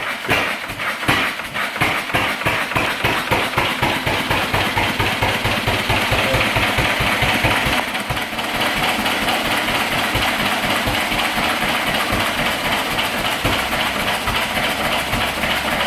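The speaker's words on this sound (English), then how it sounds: "The governor's now given it full throttle." A stationary engine picks back up to full throttle once its fuel is restored, a loud, steady run of rapid rhythmic firing beats close by with a deep low thump throughout and no talking.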